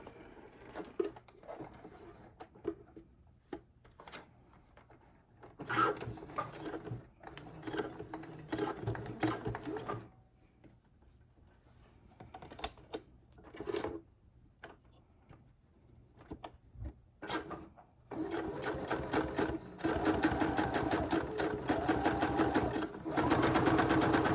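A sewing machine stitches fabric scraps for flying geese quilt blocks, running in several close, rapid bursts separated by pauses, then settling into a long steady run of stitching toward the end.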